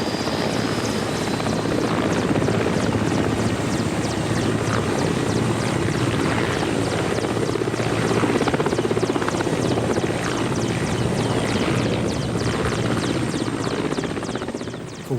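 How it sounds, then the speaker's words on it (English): Inside an old military helicopter run by the private operator Kretchet in flight, loud, dense rotor and turbine noise fills the cabin at a steady, unbroken level throughout. "Kretchet, the name on the side of the aircraft, is one of the myriad private companies now running these old military helicopters"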